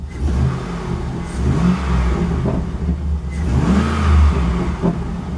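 Engine of a Chevy SSR pickup runs at close range and revs, rising twice in loud swells over a steady low rumble, with no talk.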